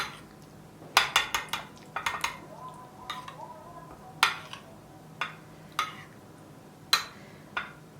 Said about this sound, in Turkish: Soslarımı karıştırıyorum